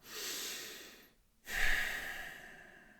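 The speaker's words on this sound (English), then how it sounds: "take a few deep breaths, maybe even do it right now" Two long, deep breaths close up, a slow breathy exhale followed after a brief pause by a fuller inhale-exhale, with no talking.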